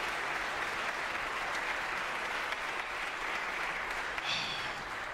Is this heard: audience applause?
yes